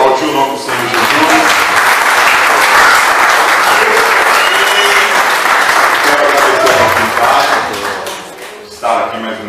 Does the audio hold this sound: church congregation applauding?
yes